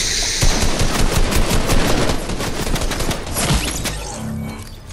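Rapid automatic gunfire in a Fortnite match rattles in dense, overlapping bursts for most of the stretch, loud and close, easing off near the end.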